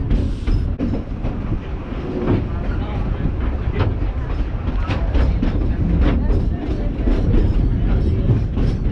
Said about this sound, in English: We'll just enjoy the sounds of the train as we make our way back downtown.